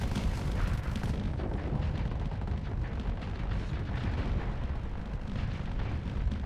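Heavy mega gun in the space combat game Starsector fires big projectiles, producing a dense, continuous barrage of loud booming blasts that blend into a rumbling roar throughout, with no talking.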